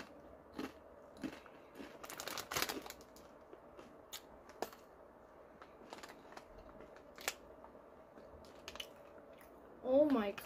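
Crunchy Doritos chips from Mexico are bitten and chewed up close, with sharp scattered crunches over a quiet room and a brief voice near the end.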